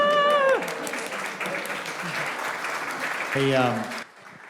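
Studio audience applause greeting a guest named Mark as he enters, a broad clapping wash between bursts of talk and music, cutting off abruptly near the end.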